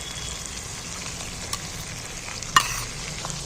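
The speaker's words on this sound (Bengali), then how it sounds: "এবার একটু আমি ভালো করে কষিয়ে নিই" Onions frying with sour yogurt in a pan while chicken is being cooked, a continuous close sizzle with occasional spatula scrapes and one sharp clink, no talking.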